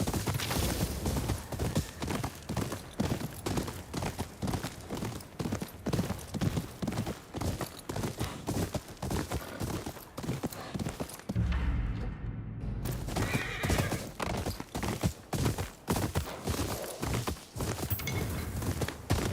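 Steady, rapid hoofbeats clatter throughout in the video game Ghost of Yotei, with a horse neighing, a brief low thump midway, and the galloping rhythm resuming afterward.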